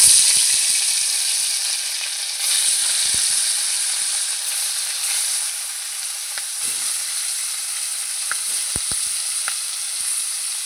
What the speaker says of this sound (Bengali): তেতে গেছে, এবার দিয়ে দেবো মাছ।